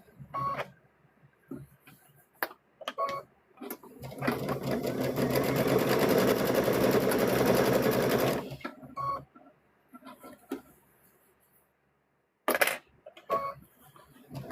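A sewing machine runs one sustained burst of fast, even stitching around a stuffed bear, framed by scattered clicks, handling taps and quiet pauses before and after.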